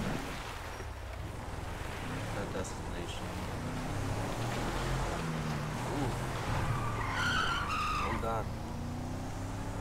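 Car driven and skidding in the video game GTA 5 on a park ranger patrol, with an engine drone, tire squeals and skids rising toward the end, heard under ongoing talk.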